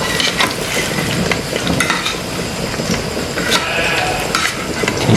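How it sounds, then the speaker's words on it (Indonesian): Jengkol beans frying in a pan, a steady dense sizzle and crackle with occasional stirring scrapes and clinks, loud and continuous without talk. "Ini udah goreng jengkol deh."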